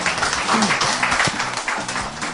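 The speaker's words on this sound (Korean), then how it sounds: "다시 한번 큰 박수 부탁드립니다" Audience applause after a lecture at a 2014 spring special talk, a dense steady patter of many hands clapping at even loudness, with faint voices mixed in beneath it.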